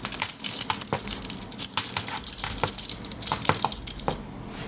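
Swiss Army knife key ring rattling up close, a quick run of small, sharp metallic clinks and jangles that keep coming irregularly throughout.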